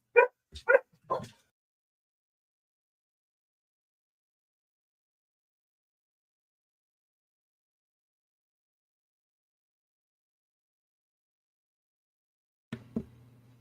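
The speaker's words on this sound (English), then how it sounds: "All right, my dogs are barking" Several dogs bark in a quick burst of three or four sharp, fairly close barks, then a long silence before one more short bark near the end.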